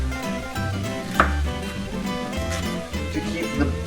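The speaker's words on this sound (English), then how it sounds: "And again, I'm also mincing this" A knife mincing pepper on a cutting board for chili, with steady rapid chopping taps close by under a background hum.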